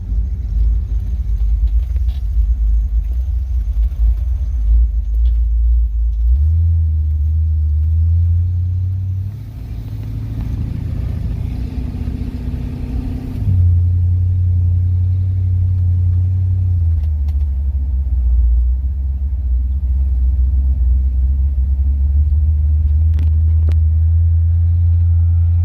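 A 1971 Chevrolet Monte Carlo idles at a night rod run with a loud, steady low rumble close by and a brief softer dip partway through.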